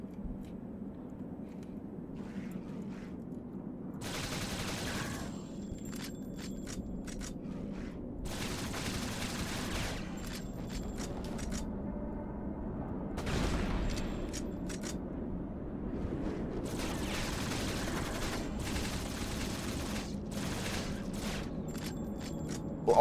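Pistol and machine gun fire in the PC shooter Shadowgrounds: Survivor, with several bursts of rapid shots over a steady droning game soundscape and no talking.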